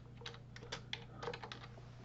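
Rapid typing on a computer keyboard while entering code, a run of close, light key clicks with uneven rhythm over a steady low electrical hum.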